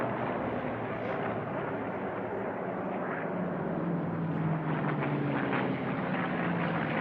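A P-63 warbird races at an unlimited air race, a steady, broad roar of piston engine and propeller that holds without a break, moderately loud and somewhat distant, with no talk.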